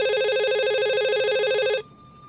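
Telephone ringing in a Nightmare on Elm Street film scene: a loud warbling electronic ring that holds steady then cuts off abruptly, leaving a faint hum.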